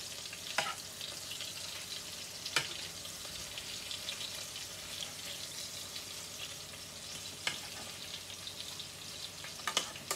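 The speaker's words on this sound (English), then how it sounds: "they smell so good frying up" Cocktail meatballs fry in a pan with a continuous crackling sizzle, broken by a few sharper pops and scrapes as they are stirred, heard up close with no talking.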